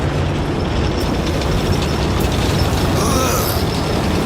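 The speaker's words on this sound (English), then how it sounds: "Tank tracks are rolling as they get into formation." Tank tracks roll in a Warhammer 40K video game, a dense, loud continuous clanking and grinding rumble of metal treads with rattling mechanical detail throughout.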